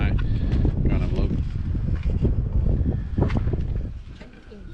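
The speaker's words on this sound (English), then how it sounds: "It's bloody windy up here." Strong wind buffets the microphone in a constant low roar on high ground at Burra, South Australia, gusting unevenly throughout with no break.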